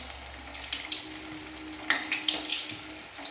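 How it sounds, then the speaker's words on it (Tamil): Cauliflower pieces for cauliflower chilli fry in hot oil with a steady close crackle and sizzle, scattered with sharp splattering pops, and no voice. "இப்படி தெரிக்கும் ஃப்ரெண்ட்ஸ் எண்ணெயில் போடும்போது."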